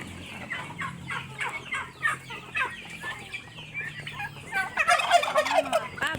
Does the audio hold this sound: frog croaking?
no